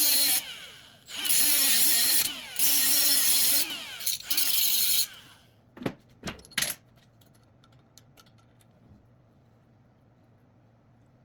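A ratchet wrench clicks as it winds a nut off in a workshop: several loud bursts of rapid ratcheting with short pauses between them, then a few sharp metallic clanks and near silence.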